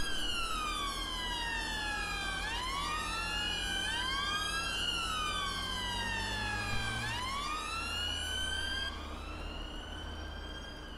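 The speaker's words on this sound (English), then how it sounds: "I'm going to turn my sirens off at a junction" Police car siren in the LCPDFR 1.0 video game with British-style Met Police, a loud continuous wail with sweeping two-tone rises and falls that shift pitch and briefly change pattern near the end over steady engine rumble.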